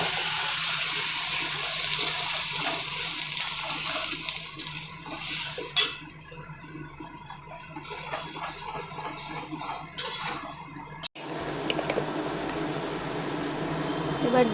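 Onion paste scraped into a pan over low heat and stirred in for a chicken rezala, with steady scraping and clinking, a couple of sharp knocks, and a hiss after the paste lands.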